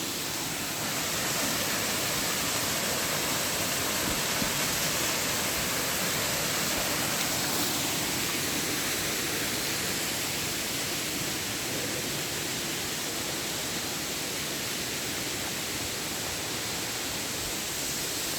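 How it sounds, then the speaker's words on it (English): Lumsdale waterfall near Matlock in the UK flowing, a steady broadband rush of falling water that holds evenly throughout. "That's Lumsdale waterfall."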